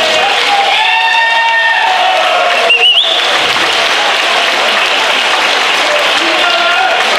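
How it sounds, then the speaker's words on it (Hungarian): Audience applauding accordion players at a folk costume and dance day in Hajós, with dense sustained clapping over lingering accordion tones, loud and close, and a brief voice briefly heard. "ezúton kérem, hogy tapsoljuk meg a harmonikásokat"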